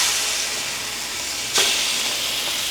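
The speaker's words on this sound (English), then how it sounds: "Going to cook some salmon." Salmon frying in a pan, a close, steady hissing sizzle with a brief louder crackle partway through.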